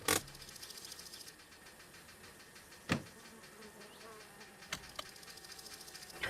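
A bee buzzes at the landfill in the video game My Summer Car, a steady droning hum that lasts throughout, with a few sharp clicks and knocks punctuating it.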